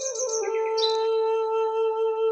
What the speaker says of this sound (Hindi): चिड़ियों की ये मासूम चहचहाहट